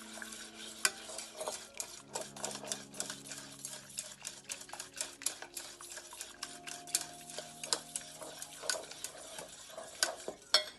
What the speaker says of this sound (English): give that a good whisk together and whisk out any of those lumps that may sneak through